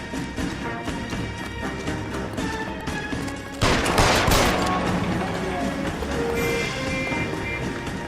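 Gunfire and combat noise in the crime game L.A. Noire comes as a dense, steady clatter, with a louder burst of shots and a crash partway through, heard alone with no talk.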